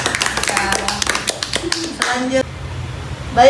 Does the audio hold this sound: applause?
yes